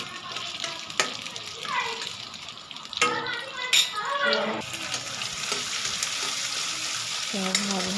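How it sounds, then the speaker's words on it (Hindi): Onion and green chili lightly frying in a pan, a steady hiss of sizzling oil with occasional stirring scrapes, close by, while a voice talks at moments over it. "वेजिटेबल्स को हम लोग हल्का ही फ्राई करेंगे।"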